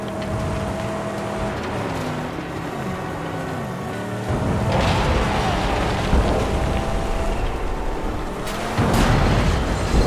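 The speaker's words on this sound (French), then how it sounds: "les explosions qu'il y a" Loud booming blasts from the Mad Max video game burst over a dense, rumbling action soundtrack, with sharper bangs near the middle and end.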